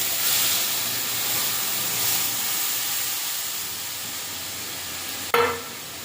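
Strained mustard-paste water goes into a hot oiled pan, giving a loud, steady steamy hiss throughout, capped near the end by a sharp clatter.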